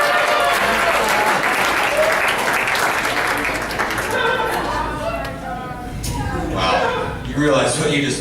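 A comedy club crowd at a comic tribute show bursts into sustained applause mixed with chuckles and laughter. The clapping fades toward the end and then swells again.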